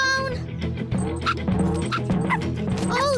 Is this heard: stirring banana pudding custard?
no